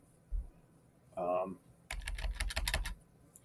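Quick bursts of computer keyboard typing while entering a value in CAD software, with a brief spoken phrase before a dense run of close key clicks.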